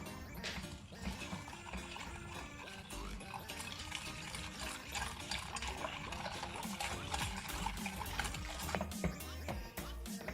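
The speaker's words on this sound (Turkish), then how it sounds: "Şimdi ocağımın altını açıp koyulaşana kadar kaynatıyorum." A cream of flour and starch bubbles and thickens in a pot on the stove, giving a steady, dense, low burbling with small pops and faint stirring throughout.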